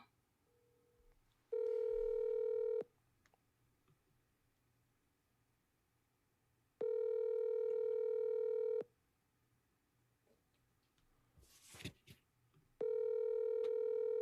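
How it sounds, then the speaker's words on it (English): A telephone call goes out: a few dialing tones, then loud, long ringback tones repeating at regular intervals, with quiet pauses and a brief rustle between them. "I'm going to call one more time and I'm going to leave a voicemail."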